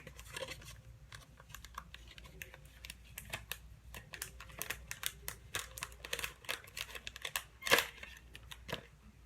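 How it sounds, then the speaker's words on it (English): Clear plastic packaging of Color Street nail strips being ripped open, a run of close, crisp crackles and tearing snaps with one sharper rip near the end, no talking. "rip it open"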